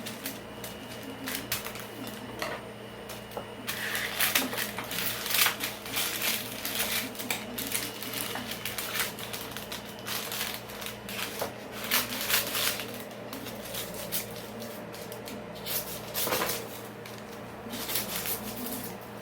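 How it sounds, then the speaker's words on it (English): Ice cube maker churning out ice beside someone at home, a steady mechanical rattle with crunching, clattering bursts that run throughout at moderate level. "I'm making ice cubes in case you're wondering what that noise is."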